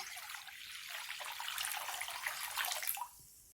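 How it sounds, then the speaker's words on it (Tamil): Water pours steadily into a cooking pot of finger millet porridge with a rushing, splashing sound for a few seconds, then stops. "இதில் நம்ம எடுத்து வச்சுருக்கிற தண்ணியை சேர்த்துக்கலாம்"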